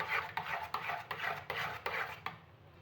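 Raw mango pulp stirred with roasted cumin powder in a pot, a spoon scraping and sloshing in steady repeated strokes, about seven close rhythmic passes before it stops.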